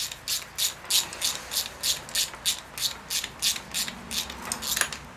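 Rapid, steady ratchet clicks from a hand ratchet snugging bolts on a vintage Cub Cadet 1330 lawn tractor, a close run of about fifteen even pawl strokes with no talk.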